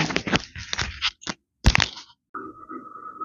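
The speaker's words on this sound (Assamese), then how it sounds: "আৰু এতিয়া মই ঢাকোনখন লগাই দিম" A few sharp clanks and knocks of metal as a lid goes onto a pot of paneer and bottle gourd, followed by a steady high hum from the burner or simmering pot once the sounds stop.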